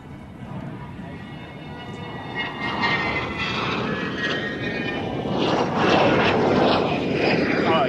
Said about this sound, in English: That's the C-130 we were just talking about.